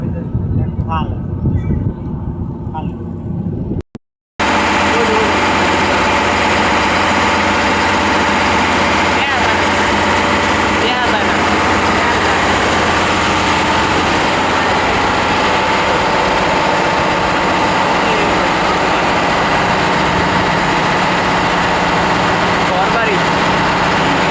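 A motor launch boat engine runs close by with a loud, steady droning rumble that holds without change, apart from a brief cutout early on.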